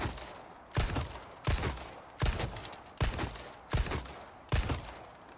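A pistol in the video game Resident Evil 4 Remake fires seven loud shots at a steady pace of about one every three-quarters of a second, each a punchy crack trailing into a short echoing tail.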